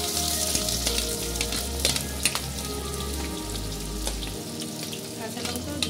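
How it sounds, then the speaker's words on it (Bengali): Onions sizzle in hot mustard oil with dried red chillies, bay leaves and garam masala, a dense continuous frying hiss with scattered crackles, close and fairly loud. "সর্ষের তেলের মধ্যে আমি শুকনো লঙ্কা, তেজপাতা আর গরম মশলা ফোড়ন দিয়ে দিচ্ছি। এবার আমি পেঁয়াজ ছেড়ে দিচ্ছি।"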